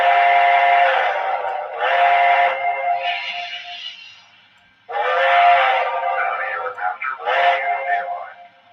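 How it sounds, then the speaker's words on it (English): A model train's sound decoder sounds a steam whistle in several bright, reedy blasts, a long one, a shorter one, then a pause and a further set of toots. The whistle is close and loud with no background sound. "This is like the best sounding whistle I've heard in a while."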